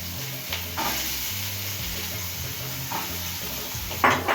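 Potatoes dropped into hot oil with cumin and whole garam masala, a steady loud sizzle and hiss with stirring scrapes and a clatter of utensil against the pan near the end.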